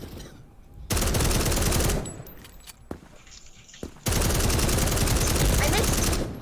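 Rapid submachine gun fire from the first-person shooter Krunker, two loud sustained bursts of about a second and two seconds separated by quieter game sounds, a few isolated shots between them.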